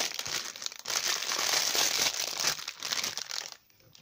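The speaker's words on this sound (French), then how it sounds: "Et là, on va ouvrir le paquet." Wrapping on a gift package crinkles and rustles loudly up close as it is torn open, in dense continuous crackling bursts that stop abruptly near the end.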